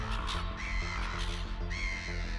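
A wild raven gives a series of loud, close, harsh caws in quick succession, heard alone.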